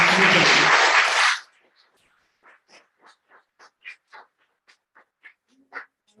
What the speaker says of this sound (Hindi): नीति राठौर के लिए बहुत जोरदार तालियां।